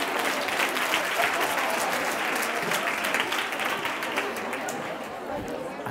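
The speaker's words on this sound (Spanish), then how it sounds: "un aplauso y nos sentamos" Dense, loud applause from a large audience at a teacher training talk, continuous throughout with a murmur of crowd chatter underneath.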